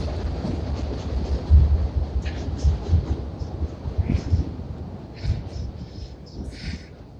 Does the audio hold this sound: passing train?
yes